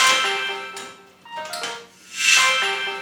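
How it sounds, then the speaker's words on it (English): A phone ringtone chimes twice in a repeating melodic pattern, nearby and fairly loud, with no talking over it. "that would be my phone going off because it's telling me I'm home"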